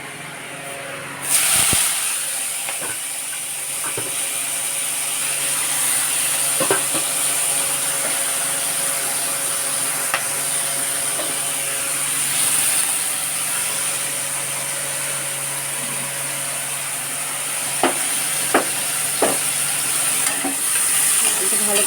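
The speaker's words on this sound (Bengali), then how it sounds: "তেলটা দিয়ে দিচ্ছি গরম হয়ে গেলে এর উপর দেবো সত্যি চিংড়িটা দিয়ে দেবো" Dried shrimp frying in hot oil for a banana-blossom curry, a loud continuous hiss and sizzle kicking in abruptly and lasting throughout, broken by occasional spatula knocks and scrapes against the pan.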